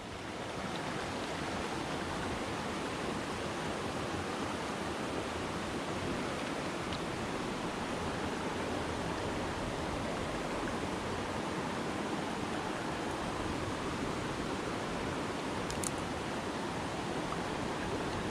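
A small mountain stream in Wilson Creek, Pisgah National Forest, North Carolina, rushes steadily at a wet-feet backpacking crossing, a continuous soft wash of water heard nearby with no talk.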